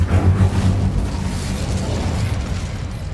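An Incendio fire spell blast in Hogwarts Legacy, a loud booming burst with a rumbling low roar that gradually settles, no voices.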